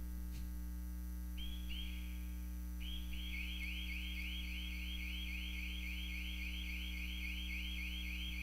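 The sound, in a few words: alarm going off in a church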